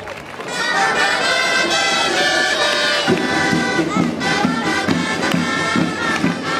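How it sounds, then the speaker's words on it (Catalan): A large crowd at a giants gathering in Manlleu, Catalonia, cheers and shouts together, loud and sustained, with scattered claps building into applause partway through. "Un fort aplaudiment per Taradell!"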